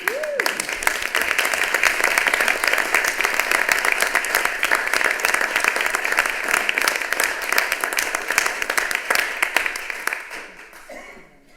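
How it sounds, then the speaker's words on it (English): Sustained applause from a room of people at a city council meeting, steady and fairly loud for about ten seconds before tapering off at the end. "Mr. Wanlin, would you like to stand so we could clap for you?"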